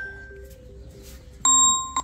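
A phone rings during a farm visit about bull cattle: a bright, sustained electronic tone starts partway through, cuts off, then returns as a short second burst. A faint melodic tone precedes it.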